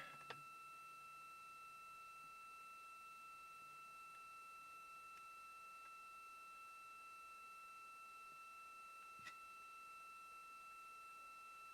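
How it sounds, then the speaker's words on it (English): A steady high-pitched electronic hum, the NASA radio dial tone during Artemis II launch coverage, with a couple of pure tones, continuous and unchanging, with a few faint clicks; no voices. "That high-pitched audio hum you're hearing is the dial tone for the radios."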